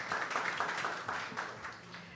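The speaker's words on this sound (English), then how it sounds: "Let's give her our warm round of applause as well." A university forum audience gives a short, dense round of applause, steady broadband clapping that tapers slightly over about two seconds.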